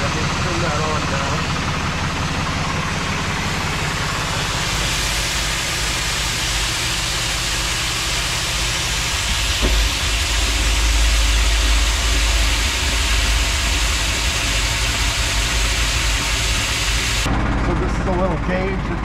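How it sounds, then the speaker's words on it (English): A tractor's power takeoff drives a 50 gallon sprayer's pump and agitator, giving a loud, steady, close mechanical drone with engine rumble that runs without a break and cuts off near the end. "This is all driven by the power takeoff on the tractor. So this turns both the agitator and the pump."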